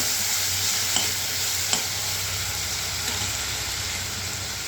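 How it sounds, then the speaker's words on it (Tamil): Turkey berries sautéed in lightly heated oil for a peanut curry, a steady soft sizzle with a few scraping stirs of the pan, close and fairly quiet with no talking. "இப்போ இந்த சுண்டைக்காய் போட்டு இந்த எண்ணெயில் நல்லா வதக்கிட்டு போடுறாங்க"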